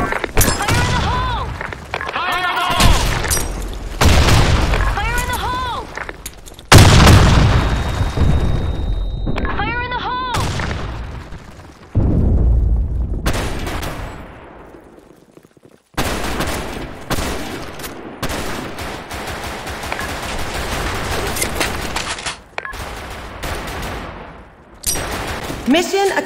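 Grenade blasts and gunfire in the Blackshot online shooter: repeated heavy booms and rattling volleys, loud and close, mixed with in-game voice callouts throughout.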